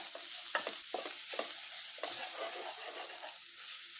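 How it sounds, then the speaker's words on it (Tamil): Ground spice paste for an anchovy fish dish fries in a pan with a steady close sizzle, broken by scraping stirring strokes. "லைட்டாக ஃப்ரை பண்ணிடலாம்."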